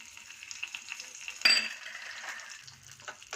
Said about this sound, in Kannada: ನೋಡಿ ಇವಾಗ ದ್ರಾಕ್ಷಿ ಹಾಕ್ತಾಯಿದ್ದೀನಿ